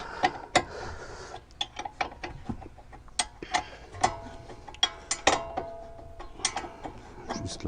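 Ratcheting wrench loosening the 20 mm ball joint bolt on the rear upper control arm of an Alfa Romeo 166, heard as a run of sharp metallic clicks and ticks in uneven bursts, close up with no talking.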